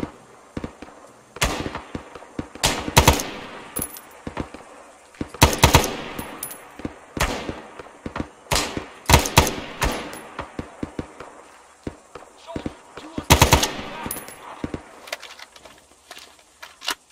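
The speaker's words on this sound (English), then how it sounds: "They got a big old gun up there or something." Heavy gunfire in the ARMA 3 game, with loud bursts and single sharp shots arriving in irregular clusters, some close and punchy, others fainter with echoing tails and quiet gaps between volleys.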